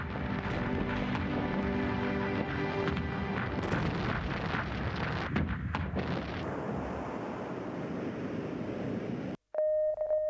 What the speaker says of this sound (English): the shells from their artillery are destroying the Chancellery.